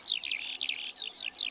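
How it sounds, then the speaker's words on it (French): Eurasian skylark singing over an open field, a rapid string of high, trilling, warbling notes heard clearly and fairly close, with no other sounds competing. "Vous apercevez une alouette des champs."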